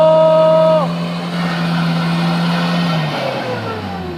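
Mitsubishi L300 pickup engine straining and revving on a slope slick with spilled palm oil, a loud steady drone that drops in pitch as the revs sag, with raised voices briefly over it.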